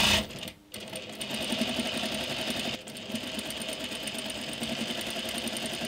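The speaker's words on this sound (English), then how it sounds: "Now I've just got to top stitch them down." A sewing machine runs steadily, double top stitching rock climbing pants with reinforced knees, with a brief stop near the start, then a continuous close whirring drone of rapid needle strokes.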